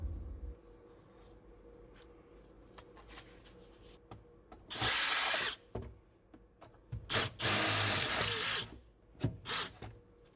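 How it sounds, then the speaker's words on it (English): A power drill bores small holes up through a car floor from underneath for a diesel heater install, two loud bursts of grinding drilling between quieter handling clatter and a few short whirs. "I will drill 2 small holes from underneath, and those are the 2 corners of the large hole."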